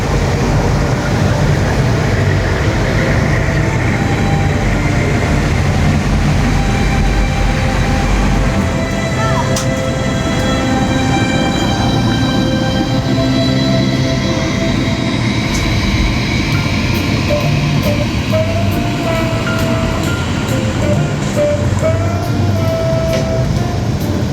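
Disneyland Railroad train ride: a loud continuous rumble and clatter of the moving train fills the clip, with squealing tones and a voice speaking over it.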